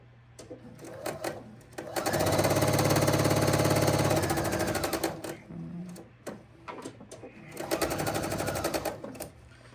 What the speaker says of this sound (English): And I'm going to go down and sew on the other side.